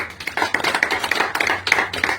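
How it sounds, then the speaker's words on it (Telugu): A crowd applauds municipal workers, a quick irregular patter of claps close by over a few seconds with no talking. "ముఖ్యంగా మున్సిపల్ కార్మికులకు ఒక గట్టి చప్పట్లతో మీరు అభినందించాలని"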